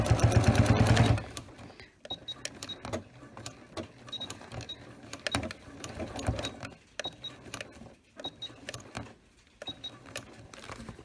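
A sewing machine fitted with a walking foot stitches leather for a cosplay thigh boot, starting with a loud whirring run, then continuing in quieter, uneven stitching bursts with small clicks and pauses.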